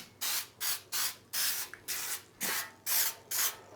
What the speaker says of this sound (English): I'm going to shoot it up with some baking spray.